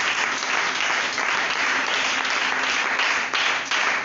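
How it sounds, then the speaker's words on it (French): Church congregation applauding a scripture verse, dense sustained clapping from a large crowd that stays loud and steady throughout. "Est-ce que tu peux acclamer cette parole de l'Écriture?"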